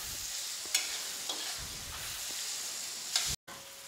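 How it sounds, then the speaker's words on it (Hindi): Tomatoes fry in oil with cooked-down spice masala, giving a steady close sizzle broken by a few scraping stirs of a spoon, with no talking. "अब इसमें डालेंगे टमाटर, थोड़ा टमाटर को भी भून लेंगे।"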